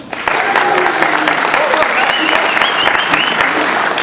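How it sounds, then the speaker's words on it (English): A Comic Con convention audience gives itself a round of applause, a loud, dense crowd clapping that rises sharply after a brief pause and holds steady throughout, with faint voices mixed in. "you should probably just give yourself a round of applause"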